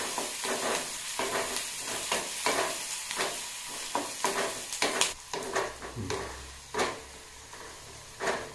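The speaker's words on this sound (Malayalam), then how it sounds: "നമ്മുടെ ഉള്ളിയൊക്കെ നന്നായി മൂത്ത് വരുന്നു" Onions frying in coconut oil for a drumstick-leaf sardine curry, a steady close sizzle broken by repeated scraping stir strokes against the pan, with no talking.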